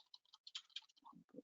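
Quick, uneven typing on a computer keyboard, a scatter of light clicks and taps at low level that ends in a few heavier key strikes, with no voices.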